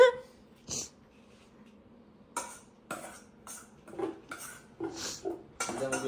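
Dishes, pots and pans being washed, with a series of sharp clinks and clatters of metal and crockery, sparse at first and then more frequent, close and fairly loud against a quiet background.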